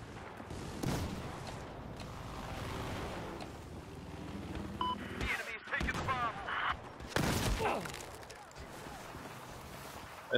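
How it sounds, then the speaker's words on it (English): Gunfire and fire grenades in the Xbox 360 game Battlefield 4 multiplayer: dense overlapping shots, blasts and crackling bursts fill the scene, loud and busy, with a few sharp louder impacts toward the end. "They're throwing fire grenades at me."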